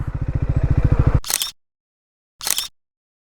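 Two quick shutter bursts from a camera taking photos at a Ladakh lake, each a short crisp clatter with silence between them, following a motorcycle engine's idle that cuts off abruptly.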